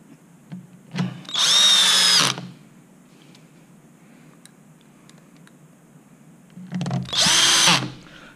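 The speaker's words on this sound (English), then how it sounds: "keeping the drill on a low torque setting" Two bursts of a cordless drill on a low torque setting whirring as screws are driven into a top box mount, each about a second long, separated by quiet pauses with faint clicks.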